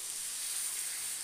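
Water poured into palak paneer cooking in a hot pan sets off a brief, steady sizzling hiss, close and fairly quiet.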